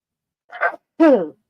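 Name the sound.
sneeze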